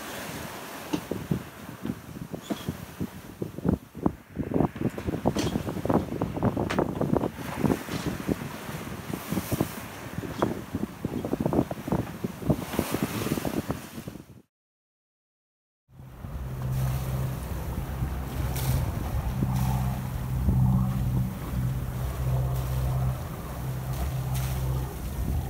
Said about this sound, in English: the next morning we started to sail towards Western Samoa